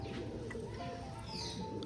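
Pigeons coo softly and faintly in a short, low, murmuring stretch against quiet background noise.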